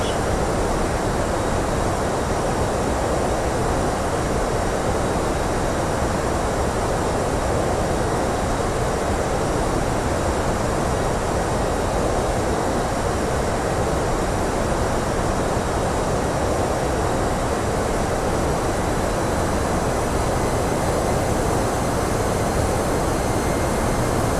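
A FedEx aircraft in a flight simulator rolls down runway 25 at Belfast for takeoff. Engine roar and rumble hold loud and steady throughout, with no talking.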